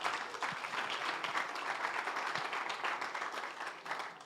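An investor summit audience claps, spotlighting female startup founders in the room, producing a steady, moderately distant round of applause that holds for several seconds.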